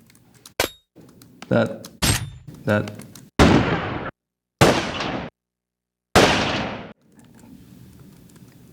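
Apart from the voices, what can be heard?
layered gunshot sound effect: mechanism click, high crack, low-mid gunshot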